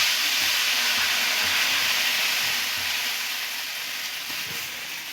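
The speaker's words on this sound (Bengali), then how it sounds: "দেখুন এবার দিয়ে দিচ্ছি সেদ্ধ করে রাখা চাউমিন" Boiled chowmein noodles hiss in hot oil in a wok, a steady broadband sizzle close by that eases off slightly toward the end, with no voices.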